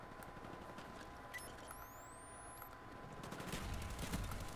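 Quiet bursts of automatic gunfire in the Call of Duty: Black Ops video game, distant and scattered, growing louder toward the end, with little talk.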